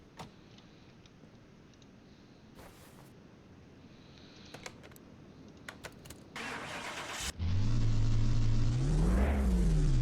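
Nissan Silvia S15 with twin cam 16-valve engine in Car Mechanic Simulator 2021: quiet clicks and a whirring starter, then the engine catches and revs loudly up and down near the end.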